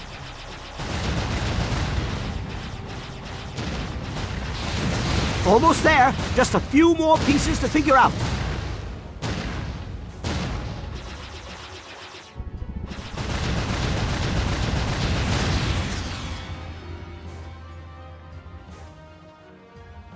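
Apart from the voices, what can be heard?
explosions in a video game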